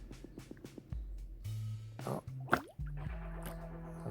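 Swamp gas bubbling up through deep lake water at a campground, heard as a series of close, wet plops and gurgling bursts, with a brief exclamation and low background noise.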